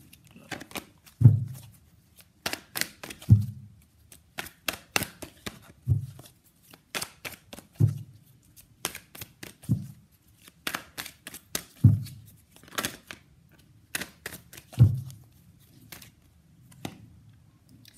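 Tarot cards are shuffled and pulled from the deck in repeated sharp bursts of riffling and snapping, roughly every two seconds, close up with quiet gaps between, and no talking.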